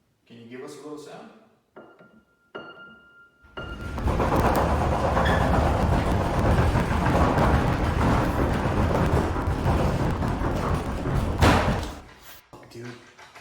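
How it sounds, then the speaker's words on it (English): Heavy rumbling doors booming in a loud, sustained low roar for about eight seconds, with scattered voices and reactions before it begins and after it fades. "When the doors began to rumble"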